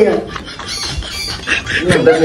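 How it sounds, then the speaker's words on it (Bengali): A bird screeches and squawks in harsh, repeated cries close by, mixed with people talking. "একটা পাখিটাও চিল্লাইতেছে"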